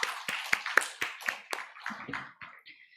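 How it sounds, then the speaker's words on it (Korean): Scattered, uneven hand claps from a church congregation during a Wednesday worship service, thinning out and fading over a few seconds. "우리 하나님께 영광의 박수 올리겠습니다."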